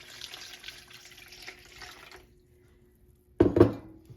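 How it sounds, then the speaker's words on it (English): Hot water runs from a kitchen tap for bun dough, a steady hissing flow that stops partway through, followed by a brief loud clunk or splash near the end. "So you want fairly hot water,"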